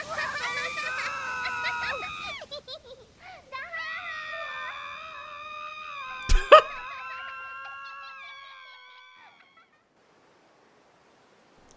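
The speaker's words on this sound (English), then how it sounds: "I enjoyed it mostly for Rain just shrieking the entire time." Character Rain in the World of Final Fantasy video game shrieking in long, high, wavering cries over music, with a sharp crack midway before the sound fades out.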